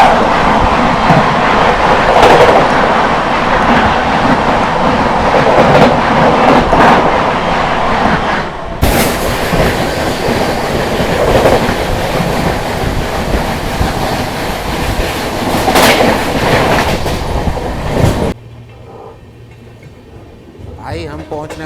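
From aboard a moving Indian passenger train, steady loud rumbling and clickety-clack of wheels on rails as a Rajdhani Express passes on the other track, with a sudden rushing surge, then quieter rolling at the end, people talking throughout.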